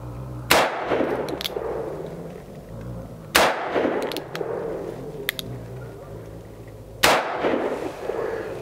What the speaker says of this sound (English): we're gonna take 3 shots center mass on them and see what it does two-handed